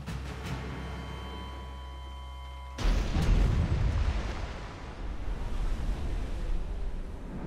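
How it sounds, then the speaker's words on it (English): Naval cannon fire sinking a ship at sea: a low rumbling hum breaks into a sudden heavy boom, followed by a long roaring, surging tail like churning water, with no talking. "and sank their ship with our cannon."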